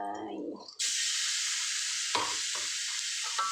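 Pork dropped into a hot pan for stir-fried eggplant: a sudden loud hiss of sizzling begins after a brief voice, then holds steady with a few scraping stirs of the spatula.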